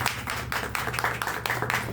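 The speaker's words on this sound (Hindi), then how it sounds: "जोरदार ताली होना चाहिए।" Applause and clapping from a crowd at a political rally in Jharkhand, a dense steady patter of many hands lasting throughout.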